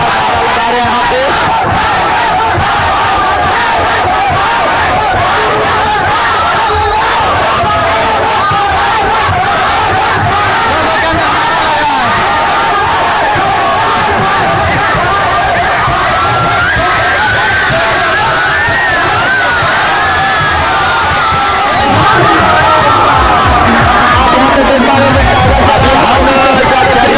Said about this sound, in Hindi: सब कोई टाइगर टाइगर का नारा लगा रहे हैं यहाँ पे।